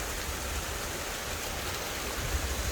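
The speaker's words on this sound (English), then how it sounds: "Guys, check out the water streams." Mountain streams fed from the Atlas Mountains run over stones in a steady, full rushing wash of water, close and continuous with no voices.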